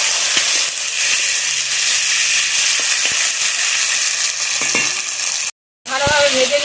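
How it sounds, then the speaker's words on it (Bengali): Chopped tomatoes and pieces of black kalibaus fish sizzle steadily in a hot pan for a Bengali kalia, a loud continuous frying hiss with occasional stirring clinks, cutting out briefly before the sizzle resumes. "কেটে রাখা টমেটো দিয়ে একসাথে ভালোভাবে ভেজে নেবো।"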